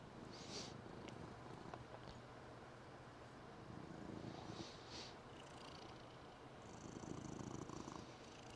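A pet cat purrs steadily on a person's lap in a quiet room, a close, continuous low rumble that stays soft and even with no voices.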